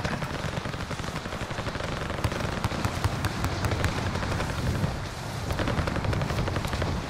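Rapid gunfire in Call of Duty: Modern Warfare, dense bursts of automatic shots and pops over a loud, continuous battle roar, with no talk over it.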